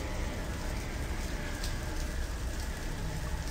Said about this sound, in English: It started to rain inside, apparently.